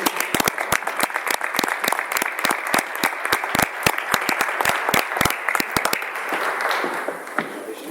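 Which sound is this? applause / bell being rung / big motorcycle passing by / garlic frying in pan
applause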